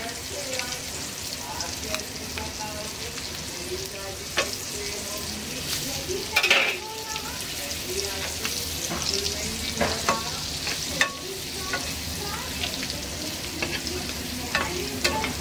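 Spices for egg masala stir-fried in a pan over a very low flame: a steady soft sizzle under repeated scraping strokes of a spatula, with one sharper clatter midway; no talking.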